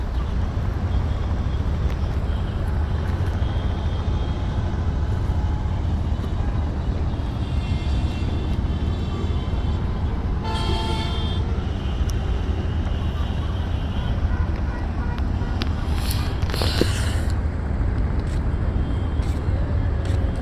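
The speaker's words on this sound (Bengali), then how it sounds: "শামিম এখন রিভার্স পার্কিং করবে।" A car engine rumbles steadily while the driver reverse parks at a driving training lot, a continuous low drone with people talking nearby and a faint passing aircraft overhead.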